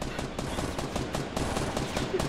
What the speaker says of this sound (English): as long as you still hear gunfire